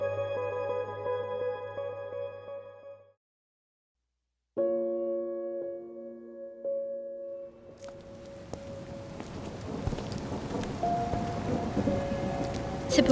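Steady rain pours during a thunderstorm in a radio drama, a broad continuous hiss with scattered drop impacts that swells louder toward the end, preceded by a brief musical passage and a short silence.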